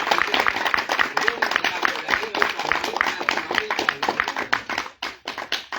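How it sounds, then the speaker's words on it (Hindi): A crowd at a political public address claps steadily in dense applause with scattered voices mixed in, lasting several seconds before thinning out near the end. "और जोर से तालियां जरा बनाइए, जोरदार"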